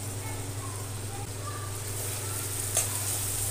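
Spices—chilli, turmeric, coriander powder and salt—stirred into hot oil for a gram-flour capsicum curry, giving a steady soft sizzle with scraping strokes and one brief clink, close and even throughout.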